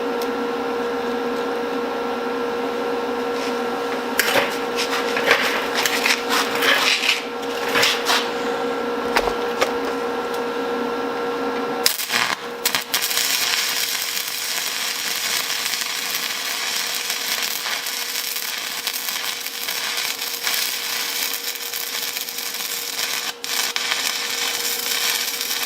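Welding on a furnace firebox gives a steady, close crackling hiss that runs for the whole stretch. The tone shifts abruptly about halfway through and then continues as a brighter, even sizzle.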